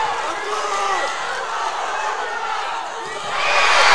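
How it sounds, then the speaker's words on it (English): An arena crowd at the weightlifting world championships roars continuously, loud and sustained, with cheering and shouts swelling toward the end as a commentator talks over it. "The crowd erupts"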